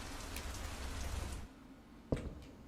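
Steady rain falling in a video game, a broad hiss that fills the first half and then cuts out abruptly, leaving near silence broken by a single sharp knock.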